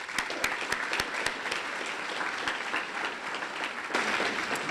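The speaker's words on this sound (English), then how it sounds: "let's still give them a round of applause." Applause from an audience at a Salute to Service event honoring higher education leaders, a dense, steady clapping that carries on for several seconds, with a few sharper claps standing out and a slight swell near the end.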